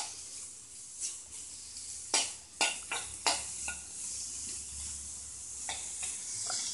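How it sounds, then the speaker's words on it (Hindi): Chopped onion frying on high heat in a pan, a steady close sizzle broken by several sharp stirring scrapes and clatters near the middle, with no talking. "ये एक प्याज मैंने काट करके रखा है, इसको हाई पे इसको फ्राई करूंगी।"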